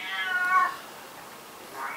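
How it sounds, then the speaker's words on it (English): A cat meows insistently indoors, a clear drawn-out call near the start followed by a quieter second meow rising at the end, with a faint background hiss between. "You don't have to keep meowing."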